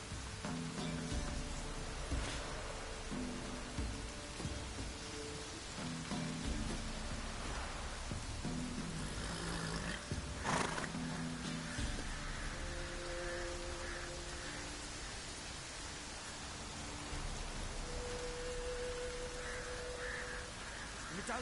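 Continuous rainfall in The Witcher game hisses steadily, with a few sharper splashy bursts and soft musical tones drifting underneath at moderate, even level.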